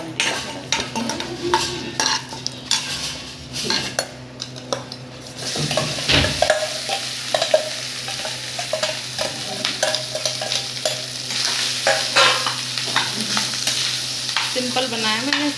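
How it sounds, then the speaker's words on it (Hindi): Curry leaves and leftover rice frying in a home pan, with a steady sizzle and scraping stirs. Metal clinks against the pan throughout, and the sizzle swells louder after the first few seconds. "कड़ी पत्ता डाल दिया"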